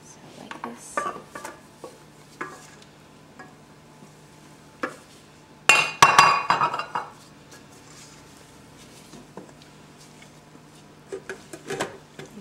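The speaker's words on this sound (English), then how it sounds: "you can fold in your egg whites" Egg whites folded into milk tart batter in a mixing bowl: soft, sporadic scrapes and taps of a utensil against the bowl, with one louder burst of clattering, close by and under a quiet room tone.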